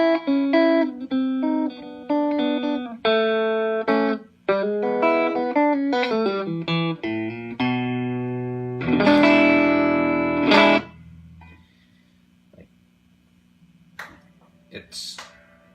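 Electric guitar run through a TFA Effects Strongarm JFET boost pedal with light first-stage saturation, playing a loud, busy run of picked notes and chords with a long sustained chord near the end, then faint decaying tail and a few soft clicks.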